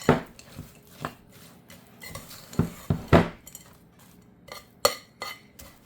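Texas trash pie filling stirred in a bowl, with a spoon knocking, scraping and clinking against the sides in irregular bursts, close and fairly loud, and no voices.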